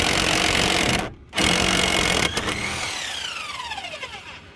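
A pneumatic impact gun hammers at a rear brake bolt on a Hyundai iX35, loud rattling bursts broken by a short pause, then a winding-down whine fading away.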